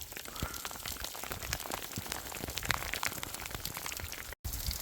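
Steady rain patters densely on surfaces close by while climbing Mount Roraima, Venezuela, a continuous hiss of drops with no pauses except one brief dropout near the end.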